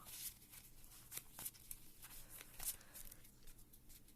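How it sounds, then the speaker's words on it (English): A Pokemon card is shuffled into a stack of prize cards, giving soft, quiet riffling and flicking of card stock in short irregular bursts, close and with no talk. "We're going to shuffle it as one of our new prize cards now"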